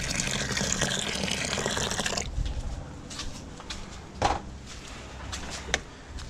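Warm water gushes loudly into a home-brewing vessel for pale ale for about two seconds, then stops, leaving quiet drips, sloshes and a couple of knocks.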